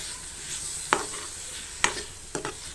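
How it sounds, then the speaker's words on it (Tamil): Drumsticks are stirred into a gravy in a pan, with three sharp scraping clacks of a spoon against the pan over a faint steady sizzle, no talking. "இந்த முருங்கைக்காவை போட்டு நல்லா கலந்துடலாம்"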